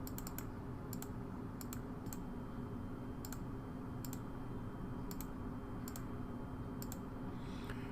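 Nine numbers keyed into a spreadsheet, heard as short sharp key clicks in small clusters spread across a quiet room with steady background hum, no voices.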